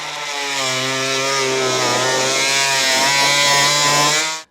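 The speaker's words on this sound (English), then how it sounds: "what I'm using is an oscillating tool, and this makes it really easy to just kind of cut through here" An oscillating multi-tool buzzes steadily as it cuts through a vehicle's front panel while a Roadmaster Direct-Connect base plate is fitted to a 2018 vehicle, a loud, continuous close-up drone that stops abruptly.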